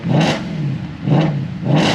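A 2008 Mercedes C63 AMG with a straight-pipe exhaust, driven in the rain, revs in three loud, sharp bursts spaced evenly apart, with a rough engine rumble running between them and no talking.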